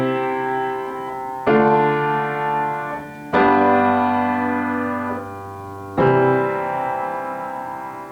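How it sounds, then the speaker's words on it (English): Four sustained keyboard chords played in turn as a I–ii–V–I progression, each struck cleanly and left ringing for roughly two seconds, clear and close with no talking. "So the entire progression from 1 to 2 to 5 to 1 sounds like this."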